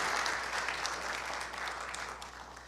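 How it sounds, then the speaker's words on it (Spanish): Quiet, distant applause from a church congregation on Palm Sunday, a soft wash of clapping that gradually fades toward the end. "Vamos a darle un aplauso a nuestros chicos por estar aquí y por ser tan valientes"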